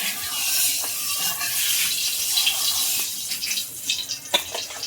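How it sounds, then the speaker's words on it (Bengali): Pond fish frying in hot oil in a wok, in a village kitchen in the Sundarbans, give a steady bright hiss with scattered sharp crackles and pops, close and continuous, with no talking. "কড়াইয়ে তেল দিয়েছি এবার মাছগুলো সব ভাজবো"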